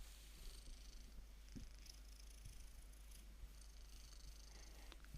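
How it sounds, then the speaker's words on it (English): A cat purring softly in a video game scene, a low, faint rumble pulsing in a steady rhythm, alone with no talk. "Any other dude would know that a cat purrs."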